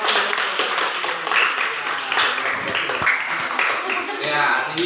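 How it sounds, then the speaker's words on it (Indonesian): An audience at a teacher-training field practice session claps steadily and fairly close, a continuous wash of hand claps with voices mixed in. "berikan tepuk tangan buat"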